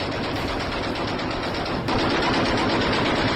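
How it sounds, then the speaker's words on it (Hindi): Dense, continuous automatic gunfire rattles at night along the Durand Line between Pakistan and Afghanistan, loud and sustained, with rapid overlapping bursts that grow slightly heavier partway through. "तड़तड़ाहट आप सुन रहे हैं, गोलियों की आवाज रात भर पाकिस्तान और अफगानिस्तान की सीमा पर आती रही है"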